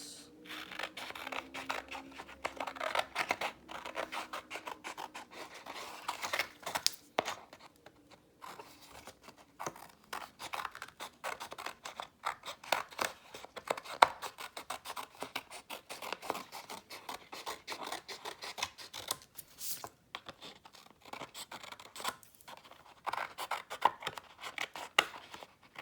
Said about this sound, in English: Take a scissor, just cut this.